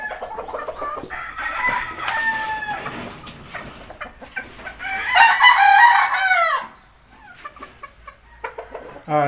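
Yellow-legged Dutch gamefowl pullets and chickens: scattered clucks and calls, with a loud rooster crow rising partway through, then quieter clucking.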